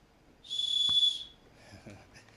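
One short, shrill whistle blast from a folding knife's built-in whistle, fairly faint, followed by a soft click and some quiet rustling.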